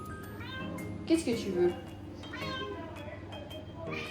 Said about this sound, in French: Ça c'est un chat, il veut de la pâtée mais...